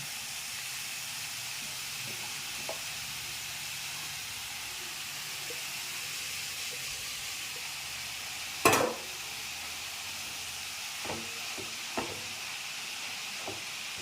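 Chaya spinach and beetroot stir-frying in a pan make a steady, moderate sizzling hiss, broken by a few soft stirring scrapes and one sharp utensil clack partway through.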